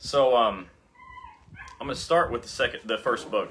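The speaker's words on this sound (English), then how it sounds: "there's a crying dog in the background" Dog whimpering and yipping in the background of a home, a short high whine heard in a pause between speech, with someone talking loudly over the rest.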